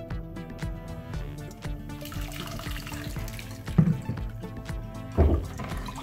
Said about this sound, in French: j'ai ajouté de l'eau, je vais mélanger et je vais le filtrer